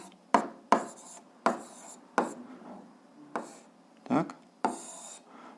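An algebra fraction solution is written by hand, with about eight sharp, separate strokes and scratches in an uneven rhythm, close and distinct, while a voice explains the steps.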